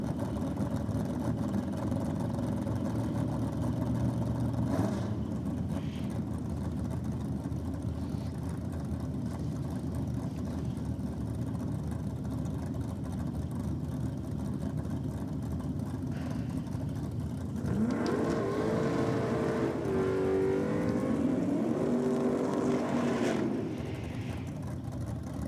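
A Ford Anglia drag car runs at a drag strip, its engine a steady distant drone that swells into a louder revving pass near the end.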